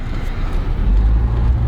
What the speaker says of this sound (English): You can tell it's an Audi-derived engine because it makes the same exact noise as all the old Audi 5-cylinder engines.